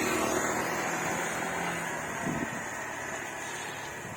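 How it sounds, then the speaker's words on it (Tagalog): Traffic on a cool, foggy mountain road in Nueva Vizcaya, a broad rumbling wash of a passing vehicle fading away, with a faint engine swell midway and wind noise, no talking. "Dami sasakyan dito dumadaan-daan."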